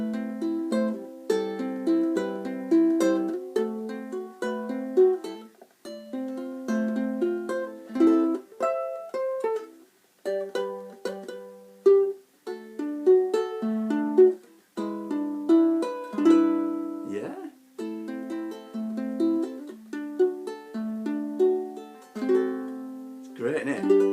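Finger-picked notes on an Aklot AKET26 tenor electro-acoustic ukulele, a steady melodic run of plucked strings with ringing sustain, close and clear, playing alone for over twenty seconds with brief pauses between phrases.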